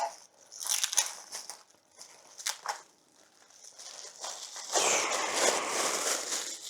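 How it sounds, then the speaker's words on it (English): Klipsch speaker being unwrapped from its packaging gives faint, intermittent crinkling and rustling of plastic and paper up close, with a louder burst of crumpling near the end. "let's unwrap this one here."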